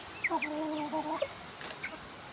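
Chickens cluck and chatter in short, close calls over a faint background hum, with no one speaking.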